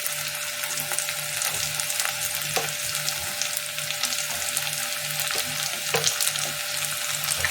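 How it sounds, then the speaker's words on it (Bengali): Onion and green chilli frying in a pan: a steady, close, crackling sizzle with occasional stirring clicks and scrapes throughout. "দিয়ে এবার একটু পেঁয়াজটা ভাজা ভাজা হয়ে যাক।"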